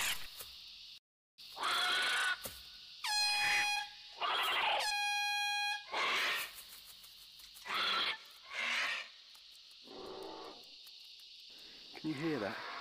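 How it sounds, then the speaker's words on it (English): A bicycle horn blasts several short, loud honks outdoors near a lake, mixed with other squawks and rustling in a noisy scene. "is a bicycle horn I bought from home, and let's see what happens."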